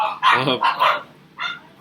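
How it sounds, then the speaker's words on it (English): Dogs bark in a few loud, nearby bursts, with a short gap before a final bark and no speech over them. "Again, pardon those dogs"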